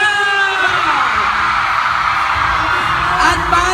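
Crowd at Maymay Entrata's grand album launch shouting and screaming for Mayward, a loud, continuous dense roar of many voices with high yells rising throughout.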